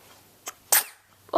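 A young child sneezes indoors, a short sharp burst after a faint intake, followed by a small vocal sound; quiet room otherwise.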